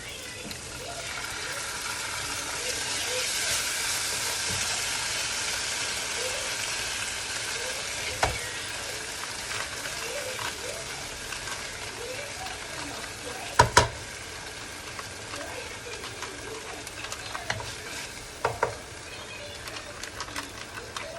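Curry sauce with fish sizzling and bubbling in a frying pan, a steady close hiss with occasional sharper pops and clinks of stirring throughout.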